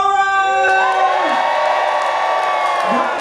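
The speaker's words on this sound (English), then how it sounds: "give me a nice big wave and a cheer if you do not have to go to work tomorrow!" Passengers aboard the cruise ship MSC Seashore cheer and whoop together as a loud, sustained crowd roar, with some shouting over a steady background of music.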